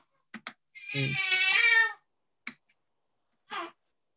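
A cat in a room meows once, loud and drawn out, with scattered keyboard or mouse clicks before and after.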